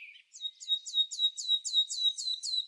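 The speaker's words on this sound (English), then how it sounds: "Meet the red-billed firefinch, a tiny spark of warmth in the grasslands and villages of Cameroon." A red-billed firefinch in the grasslands of Cameroon gives a quick series of about eight thin, high chirps in an even rhythm, close and clear against a silent background.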